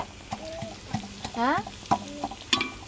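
Utensil scraping and stirring chicken tamarind curry in a pan, with light sizzling and a few sharp clanks over about three seconds, while a rooster-like cluck and faint chirps sound in the background.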